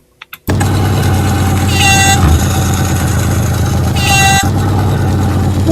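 A monster truck engine in a racing video game roars to life after two short clicks, then holds a loud, close, continuous growl with a couple of swelling revs.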